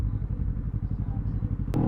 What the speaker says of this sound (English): there's a bike behind us